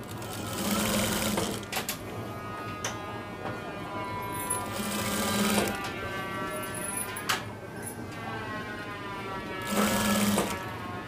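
Sewing machine stitching fabric for a Panjabi garment, running in steady bursts with short pauses between runs, needle chatter close and clear, faint handling clicks.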